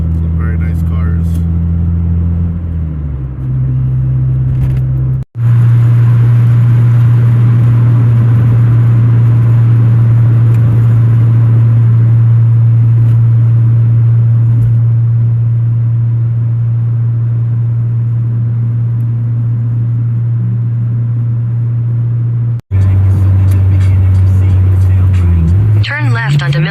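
Tire and road noise from a 1997 Honda Civic driving on a paved road, a loud, steady low rumble that holds for most of the clip, with short breaks near the start and end.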